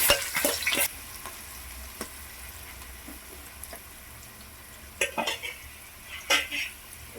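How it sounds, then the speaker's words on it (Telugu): Chopped garlic, onion and green chilli pieces fry in hot oil with a soft steady sizzle, broken by a few loud clanks and scrapes of a spoon stirring in the pan near the start and again toward the end. "సో చక్కగా ఇవి బ్రౌన్ కలర్ వచ్చేంత వరకు చక్కగా వేయించుకుందామండి"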